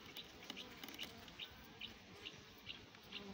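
Honeybees hum softly around an open hive frame with capped and open brood and two queen cells, a low steady drone with faint repeated high chirps and no voices.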